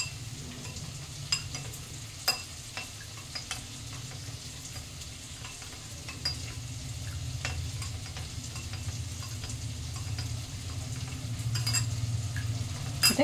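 Two tablespoons of cornflour are stirred into a cup of water with steady, soft scraping and swishing strokes, faint and continuous for several seconds, with a few sharper clinks of the spoon against the vessel.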